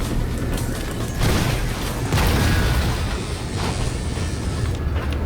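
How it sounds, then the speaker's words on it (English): A drawn-out explosion in the shooter game Hard Reset Redux, a loud, thick rumbling blast with debris-like crackle that swells in waves and fades over several seconds. "That explosion is a little bit slow."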